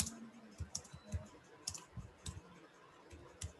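Typing C code on a computer keyboard: quiet, irregular clicks and taps of keys pressed in short bursts, close by, with no talking.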